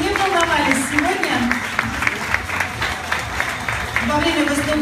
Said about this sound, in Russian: И еще раз аплодисменты всем участникам